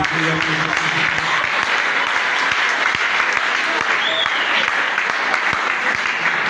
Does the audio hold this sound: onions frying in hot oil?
no